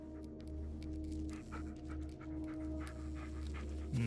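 A dog panting steadily in the Blair Witch horror video game, quick rhythmic breaths that stay close and soft over faint background ambience, with no talking.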